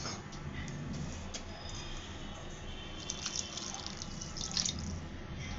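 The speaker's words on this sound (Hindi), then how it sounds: "गर्म पानी इस पे थोड़ा सा ऐड करेंगे।" Hot water poured onto flour and ghee in a bowl while making dough gives a steady, soft trickle of liquid with scattered faint drips throughout, and nobody speaks.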